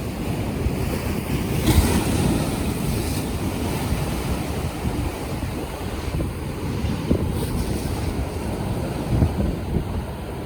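Ocean surf rolls in steadily on an incoming high tide with a broad rushing wash and gusts of wind buffeting the microphone; the waves build and break close by, continuous throughout.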